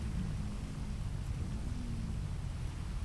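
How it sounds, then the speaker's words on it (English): Steady, dense rain hiss in the video game GTA 5 with a deep low rumble throughout, constant and fairly loud, with no voices. "It's raining."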